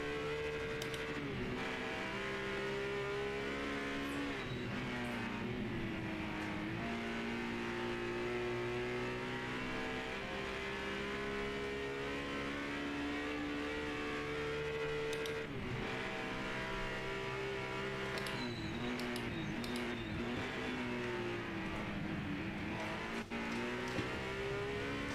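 Race car engine in the Project Motor Racing video game, a GT Icons car in an endurance race, droning loudly and continuously with pitch rising and falling through gear changes and revs.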